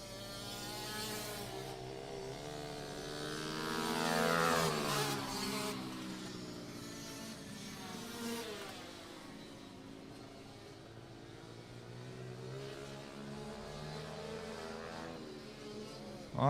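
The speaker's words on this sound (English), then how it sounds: "A couple of Kawasaki's and a KTM up front." Kawasaki and KTM dirt bikes race around a track in a bikes-and-quads event, their engines whining up and down in pitch as they pass at a distance, rising to a louder sweep before fading.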